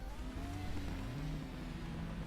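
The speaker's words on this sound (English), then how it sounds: "So we can hear the revs rising just a little bit." A 1996 British Touring Car Championship race car idles on the starting grid at Oulton Park, its engine note holding steady and creeping slightly higher, a fairly faint, continuous hum with no talk.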